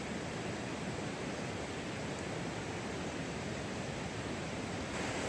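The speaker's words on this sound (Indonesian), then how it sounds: "Coba menikmati betapa derasnya suara air sungai" Rushing river water at Kali Jompo in a Jember plantation pours as a loud, dense, unbroken roar close by, with no voices.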